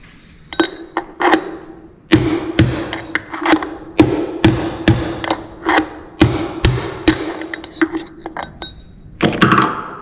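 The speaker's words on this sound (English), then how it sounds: "I'm now going to set up the tire on a couple blocks such as this, like a 4x4, and drive the races out." Bearing races are hammered out of a Buffalo 6300 cultivator gauge tire hub set on wooden blocks, a close series of sharp metallic strikes with ringing clinks, irregular then steadily paced, with no talk.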